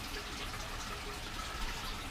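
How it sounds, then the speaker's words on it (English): Water drips and trickles constantly from an aquaponics pot drip-feeding tomatoes, forming a steady, even wash of close watery noise with no talking. "deliberately I've left something out of this pot so you can see it dripping, and constantly drips water"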